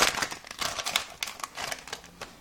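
Scissors snip open a poster package from a magazine, giving a rapid run of crisp, close cutting and crinkling bursts that rise and fade in uneven clusters, with no talking.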